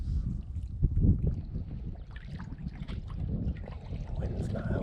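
Wind buffets the microphone on a lake during kayak fishing, a low gusty rumble with light water and boat sounds beneath faint talk.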